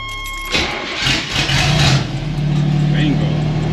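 A 1985 Oldsmobile Cutlass G-body engine cranks briefly and catches, then settles into a steady idle at close range, with a voice speaking over it.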